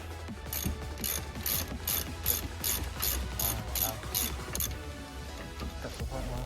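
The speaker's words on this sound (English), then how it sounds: "1/2" drive ratchet." A 1/2 inch drive ratchet clicks in about ten quick, evenly spaced bursts while loosening a brake caliper bolt on a Citroen C1, close and fairly quiet, with faint workshop background.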